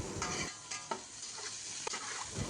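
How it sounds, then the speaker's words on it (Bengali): Chopped dried red chillies frying in hot oil, a soft, steady sizzle with brief scraping and stirring sounds and occasional pops, fairly quiet and close, with no talk. "তেলটা গরম হয়ে আসলে আমি এর মধ্যে দিয়ে দেব শুকনা মরিচ কুচিগুলো।"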